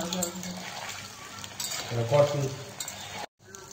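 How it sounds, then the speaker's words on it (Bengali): Paneer pieces fry in mustard oil with a soft, steady sizzle, joined by scraping stirs and light utensil clinks, and faint voices in the background. "ভেজে দেওয়ার সঙ্গে সঙ্গে পনিরগুলো ভেজে যায়"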